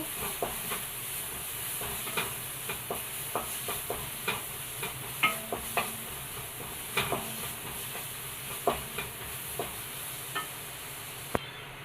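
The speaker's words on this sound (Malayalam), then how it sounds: "അതിലോട്ട് അര സ്പൂൺ ഇഞ്ചി വെളുത്തുള്ളി പേസ്റ്റ് ഇട്ട് കൊടുക്കാം ഒന്ന് നന്നായിട്ടൊന്ന് വരട്ടെ" Ginger garlic paste sautéing in a pan for a chickpea curry, a faint steady sizzle beneath repeated light scrapes and clinks of a spoon stirring, with no one talking.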